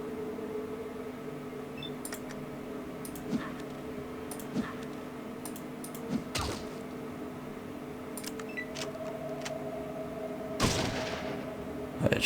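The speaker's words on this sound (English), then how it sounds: "It's shotguns." Shotgun blasts in Fallout 2, a run of sharp scattered reports over a low steady game hum, with a louder burst near the end.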